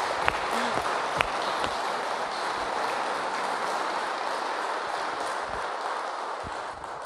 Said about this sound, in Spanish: También hay que darle un aplauso.